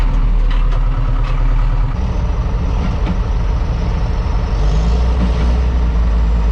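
An Ursus C-360 tractor engine runs on a farm with a loud, close, steady diesel rumble. The tone shifts briefly around the two-second mark, then settles back into the continuous throb.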